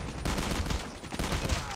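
Dense, rapid automatic gunfire from a COD Mobile multiplayer match, a continuous crackling fusillade of close, loud shots running the whole time with no voices over it.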